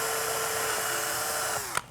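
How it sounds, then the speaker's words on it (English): Power drill boring a hole through a 3D-printed mask visor, a steady close whine that holds throughout, then drops and ends with a brief knock. "I have to drill a hole in this so that we can attach it to the helmet"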